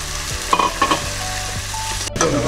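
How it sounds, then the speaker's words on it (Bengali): Prawns fry and get stirred in a pan with elephant yam stem for a Bengali dish. A continuous oily sizzle runs under repeated scraping stirs, close up, with no talking. "আমি চিংড়ি মাছটা এর মধ্যে দিয়ে দিচ্ছি"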